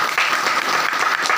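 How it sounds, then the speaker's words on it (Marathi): An audience at a religious discourse (pravachan) gives a short, dense burst of clapping that stays loud and even from start to finish. "सर्वांनी एकदा टाळ्या वाजवा त्यांच्या"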